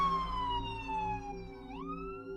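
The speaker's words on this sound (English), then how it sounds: "they were flying down the road with their sirens blaring" An ambulance siren blares close and loud, its high wailing tone sliding downward and then sweeping back up, with a low vehicle rumble beneath and no voices.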